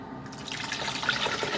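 Tap water runs into a sink used for washing fidget toys, a steady close splashing flow that swells slightly in level partway through, with no talking.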